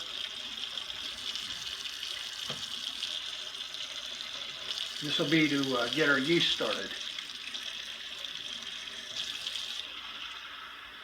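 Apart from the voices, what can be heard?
water running from tap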